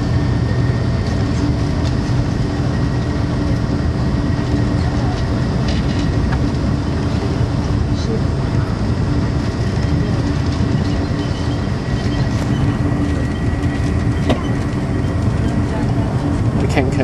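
A Eurostar train runs along the line near Ashford International, a steady loud rumble of wheels and carriage noise heard from inside, with faint clicks over rail joints and someone talking over it.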